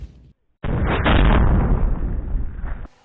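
An Instalaza C90 anti-tank grenade launcher fires with a loud, close blast that cuts in abruptly and roars on for about two seconds before stopping sharply, with no talking.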